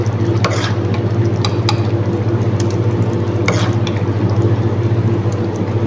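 Shrimp and basmati rice for biryani fry in a pan with a steady, loud sizzle, while a spoon scrapes and stirs in quick, irregular clinks throughout.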